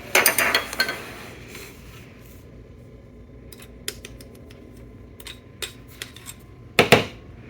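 Sugar being measured out, one cup into a mixing bowl at an ingredient table: an opening rush of pouring and scraping, then sparse sharp clinks and taps of utensils against the bowl, all close and with no one talking.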